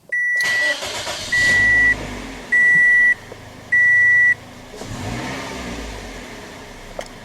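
A 2006 Toyota Corolla engine is revved repeatedly, with a steady high electronic beep sounding in four long pulses over the engine noise and a brief ticking tone near the end; loud and close, with no talk.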